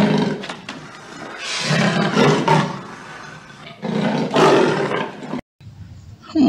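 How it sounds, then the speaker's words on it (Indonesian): A leopard animal toy plays a loud recorded roar in two long surges with a rough growling texture, cutting off abruptly near the end before a short restart. "ini adalah macan tutul"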